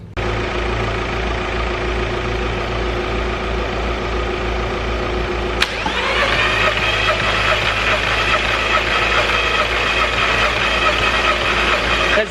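A car engine turns over and catches with a sudden rise at midway, settling into a steady, loud idle after a run of constant mechanical drone beforehand.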